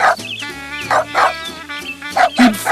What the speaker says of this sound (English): he jumped away from the hole, barking short, happy barks